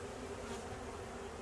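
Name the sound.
honey bees buzzing around a hive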